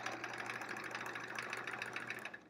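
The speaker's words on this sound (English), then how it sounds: "I'm just stitching in the ditch basically" A sewing machine stitches in the ditch while quilting along a ruler, running steadily with a close, continuous mechanical whirr and rapid needle clatter, no talk.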